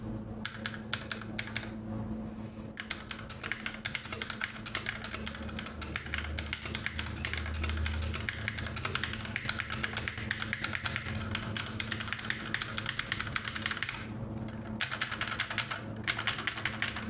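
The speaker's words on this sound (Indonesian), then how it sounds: "Kita tes kriuknya aja dulu." Continuous typing on a Rexus Ayaka mechanical keyboard fitted with Otemu red switches fills the recording, a dense fast stream of close, crisp key clacks and taps with no talking.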